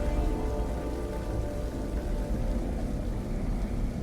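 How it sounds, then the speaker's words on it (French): Steady, dense rainfall in the video game Detroit: Become Human pours down without pause, a constant wash of noise with faint low rumbling beneath. "De toute cette pluie."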